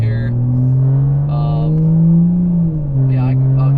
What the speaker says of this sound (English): got the intake installed, obviously with the cow's downpipe and the full exhaust, and it sounds awesome